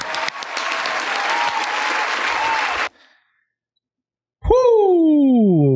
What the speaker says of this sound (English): Clap it up, y'all.